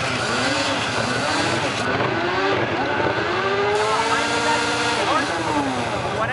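ATV engines roar and rev hard through outdoor burnouts, a loud continuous drone with rising and falling pitch sweeps and tire squeal, close and unbroken.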